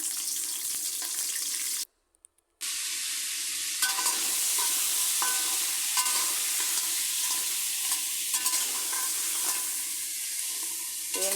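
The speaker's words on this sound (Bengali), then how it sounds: "প্রথমে কাঁকড়াগুলো বেজে নিব কাঁকড়া দিয়ে দিলাম" Crabs frying in hot oil in a pan, a loud continuous hiss and crackle with occasional stirring scrapes, interrupted by one brief silent gap before the sizzle resumes at full strength.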